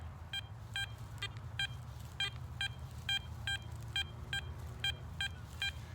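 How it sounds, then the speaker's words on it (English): About a dozen short, high-pitched electronic beeps from a Garrett Apex metal detector over a quarter repeat at a steady rhythm over a soft low background hum. "let's hear what the quarter sounds like"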